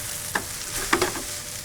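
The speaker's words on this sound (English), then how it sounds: "work these flavors into and almost toast the rice while it's in this pan" Par-cooked rice toasting in a hot pan, with a soft close sizzle broken by a couple of sharp scraping stir strokes; no talking.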